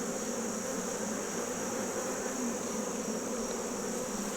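Honeybees drone in a dense, steady buzz around an opened hive during a brood inspection, a close and continuous swarm hum with no pauses.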